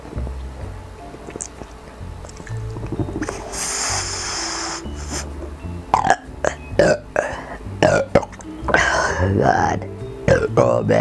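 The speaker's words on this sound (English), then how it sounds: "I definitely can get the small burps" Small burps after drinking ginger ale and inhaling helium come as a series of short, close eructations, some croaky and some airy, with breathing and grunts between them.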